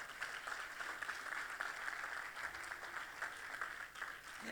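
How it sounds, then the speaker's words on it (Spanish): A church congregation applauds during a sermon by Pastor Carlos Peña, a continuous, fairly faint spread of many hands clapping that holds steady throughout. "Dale ese aplauso fuerte al Señor"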